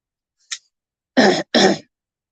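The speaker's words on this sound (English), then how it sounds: "Sorry, I keep coughing." A brief throat noise, then two harsh coughs in quick succession, close and loud against silence.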